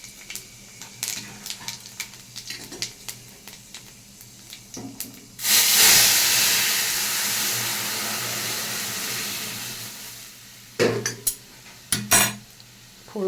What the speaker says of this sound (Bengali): ডালটা আমার ফুটে গেছে, আমি এখানে 5 ফোড়ন আর একটা শুকনো লঙ্কা দিয়ে দিলাম।